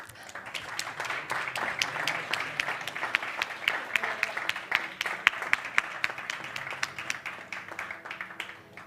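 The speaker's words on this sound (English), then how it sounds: "Again, a big applause to all of them." Audience applause for students at a Huawei Digital Talent Summit: steady crowd clapping with dense sharp claps throughout, moderately loud and unbroken for the whole stretch.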